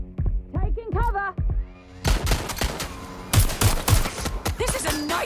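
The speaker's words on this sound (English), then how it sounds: "They're shooting!" Bursts of rapid gunfire in the video game Watch Dogs: Legion crack and rattle amid shouting voices, with loud repeated shots clustered in the second half.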